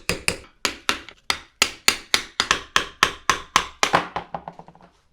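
A hammer or tool taps out the old seal from a Nissan M205 front differential: about seventeen sharp, close metallic knocks in a steady rhythm, each ringing briefly.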